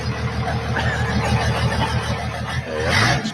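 Toyota Land Cruiser fitted with a swapped Cummins diesel engine starting up and idling, a rough low rumble that swells near the end, heard close with no talk over it.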